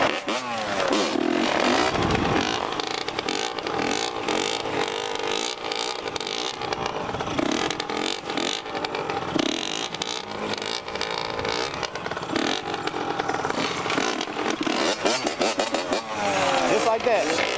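A Yamaha Banshee ATV engine revs hard and snarls through rising, uneven bursts as the machine is pulled into a wheelie outdoors, with people talking over the loud, buzzing two-stroke noise.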